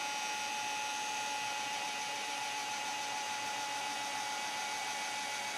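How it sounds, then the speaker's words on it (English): A heat embossing tool blows hot air to melt embossing powder on a Valentine's card, a steady, even whir with a faint constant high whine that holds without a break from start to finish. "So let's heat up our heat embossing tool and melt the"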